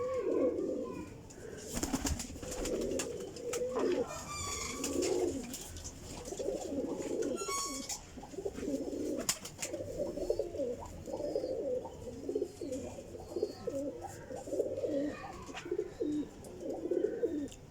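Domestic pigeons coo steadily in a loft or pen, low rounded calls repeating and overlapping close by, with a few wing flutters and faint background noise.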